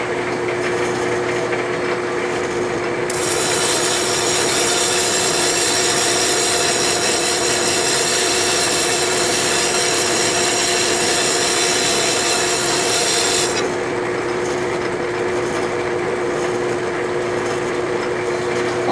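An old die filer machine files metal with a continuous, even rasping and buzzing. The sound grows brighter and harsher through the middle stretch, then eases back toward the end, and nobody speaks over it.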